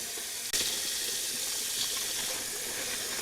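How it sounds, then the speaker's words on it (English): Cold tap water gushes into a cooking pot, starting abruptly with a splash and then running as a steady, close hiss of filling water, with no voices. "So I'm basically filling up the whole thing with cold water."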